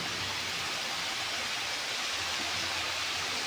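Tomato dropped into hot oil for ridged gourd chutney fries with a dense, steady, even sizzle that fills the whole clip close up, with no talk over it.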